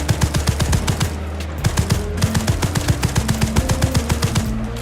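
A video game wrist rifle fires in rapid automatic bursts, sharp repeated shots in a steady machine-gun rhythm with brief gaps between volleys, up close and without speech.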